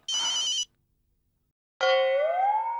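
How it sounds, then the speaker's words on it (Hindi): An electronic phone ringtone sounds twice, a short buzzy burst followed after a pause by a longer tonal melody with a rising note, close and clear. "लगता है जेठालाल का फोन होगा"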